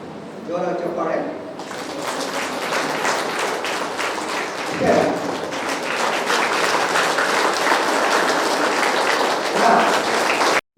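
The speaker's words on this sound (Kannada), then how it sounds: "ಜೋರ ಚಪ್ಪಾಳೆ" An audience at a pyramid center's tenth anniversary program claps in a loud, sustained wash of applause that goes on for several seconds after a short announcement voice at the start.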